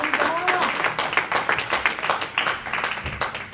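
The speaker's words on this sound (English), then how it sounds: "Y'all are clapping, and that's great." A church congregation claps and applauds in a busy, uneven burst of many hands, fairly close, with voices calling out and talking over the clapping.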